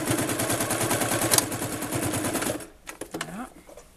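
A sewing machine stitches a backstitch on a fabric bag, running in a steady rapid close mechanical rhythm, then stops abruptly as someone speaks.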